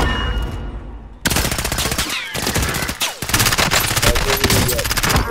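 Rapid bursts of automatic gunfire in the Warzone battle royale game, loud and dense volleys with brief pauses between strings of shots and no talking over them.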